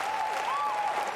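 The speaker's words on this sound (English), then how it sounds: "Yeah, stand up and clap." An audience at the Bethesda E3 2019 showcase standing and applauding, a dense, continuous wash of clapping that fills the hall at a steady loud level, with an electronic tone sustained underneath.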